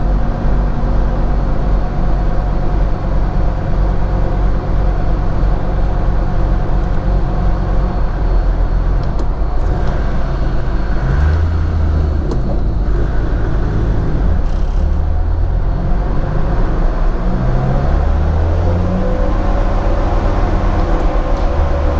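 A Land Rover Defender Td5 diesel engine runs on a dyno, a loud continuous low rumble that holds steady with some load changes in the middle stretch.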